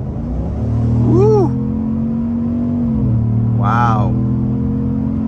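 A 2024 GMC Sierra 1500 Denali pickup accelerating hard from higher speed, a loud steady engine drone heard from inside the cab, with two short excited voice exclamations over it.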